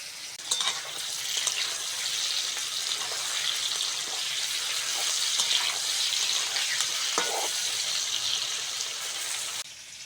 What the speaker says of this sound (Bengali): রেসিপিটার জন্য আলু বেগুন ভালো করে ভেজে নিতে হবে